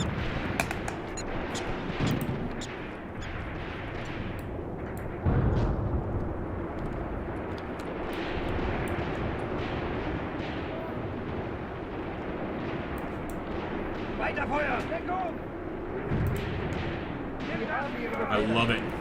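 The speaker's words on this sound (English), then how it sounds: "Get that MP40. Keep that MP40 firing." Gunfire from a Luger pistol and MP40 submachine gun in the WW2 strategy game Graviteam Tactics, scattered sharp shots and bursts over a rumbling battlefield din, with someone talking throughout.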